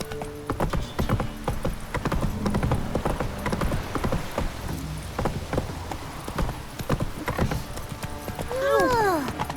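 A horse's hooves clip-clop in a steady walking rhythm in the video game The Witcher 3, mixed with game ambience and a neigh near the end, while a voice speaks over it.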